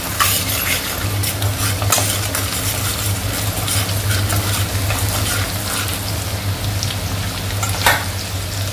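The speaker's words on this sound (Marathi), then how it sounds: "आणि ते चांगलं आपल्याला परतून घ्यायचं आहे। गॅसची फ्लेम मोठी ठेवायची आहे।" Chicken Schezwan fried rice stir-fries over a high gas flame, an intense close sizzle with a low burner rumble underneath and repeated sharp scrapes and clinks of a spatula against the pan.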